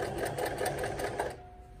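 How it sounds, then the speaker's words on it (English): A sewing machine stitches fabric in a steady, fast, close-up whir that runs on and then stops, leaving a faint hum. "So when I'm sewing, got it like this. I'm just gonna go all the way around."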